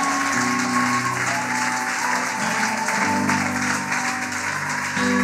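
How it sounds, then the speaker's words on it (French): A church congregation applauds and cheers for the Lord, a continuous, loud roar of clapping layered with sustained music tones throughout. "Est-ce qu'on peut acclamer le Seigneur?"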